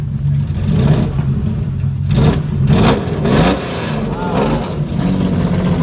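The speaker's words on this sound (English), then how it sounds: "This is competition Ferrari Daytona, and boy does it sound good." A competition Ferrari Daytona race car engine roars and revs in bursts, loud and close, with crowd noise and voices mixed in underneath at an outdoor classic car show.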